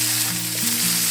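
Chopped onion hits a hot pan in a pork stir fry and sizzles loudly and steadily for a brief moment, with melodic background music playing underneath.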